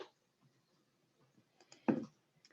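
Computer mouse clicking while selecting a purchase template, a couple of faint light clicks followed by one slightly louder click in a quiet room.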